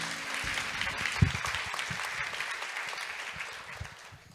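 An audience claps steadily for a few seconds, a dense patter that swells briefly and then tapers off near the end.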